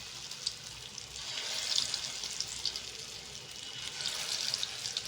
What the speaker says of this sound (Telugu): వీటిని మంచి గోల్డెన్ బ్రౌన్ కలర్ వచ్చే వరకు ఫ్రై చేసేసుకోండి 2 సైడ్స్